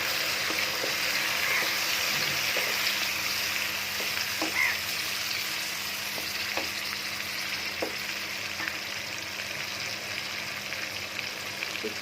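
Ginger-garlic paste with ground coriander, cumin and turmeric fries in hot oil for a Bangladeshi pickle, giving a loud, continuous sizzle close by, with occasional soft knocks from stirring.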